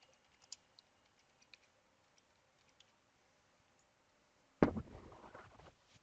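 Scattered, faint clicks of keys tapped on a computer keyboard as a name is entered, a sparse handful of soft ticks, then a louder brief burst of clatter near the end.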